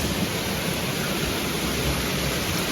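A small waterfall in Jibhi, Himachal, running during steady rain, gives a continuous broadband rush of falling water that stays even and close throughout, with no voices.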